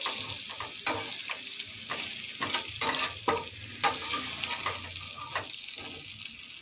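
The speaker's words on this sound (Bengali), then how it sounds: "এইভাবে নাড়াচাড়া করব আমি" Boiled potatoes with spices stirred and fried in a pan, a continuous close sizzle broken by repeated scraping and clanking strokes of the spoon at an uneven rhythm.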